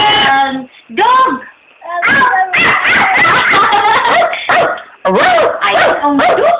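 A dog barks and yips repeatedly in close, loud bursts, some with a whimpering edge, and no voices speak in between.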